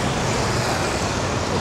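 Steady road traffic of cars, buses and trucks on a street in Nepal, a continuous broad roar with people talking beneath it.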